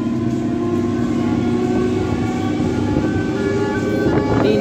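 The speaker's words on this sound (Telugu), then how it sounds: "ఫతేనగర్ నుంచి బయలుదేరింది ట్రైన్ అయితే" An MMTS commuter train pulls out of Fatehnagar station on the Lingampalli to Secunderabad line, giving a loud continuous rumble with steady tonal engine and wheel hum that rises slightly toward the end.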